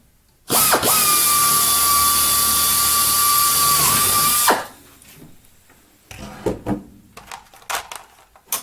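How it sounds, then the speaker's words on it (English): A power drill with a number 21 bit bores through a Bearhawk aircraft wing spar part in one loud, continuous, high-pitched burst of about four seconds. Light clatter and handling noises follow. "now I can simply drill from behind with my number 21 drill bit"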